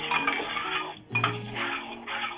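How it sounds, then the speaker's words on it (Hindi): Bay leaf pieces drop into a pan where cinnamon is frying, giving a close, steady sizzle with a light clatter of utensils and a brief dip partway through. "उसके अंदर हम ये 4 तेज पत्ते टुकड़े करके डाल देंगे"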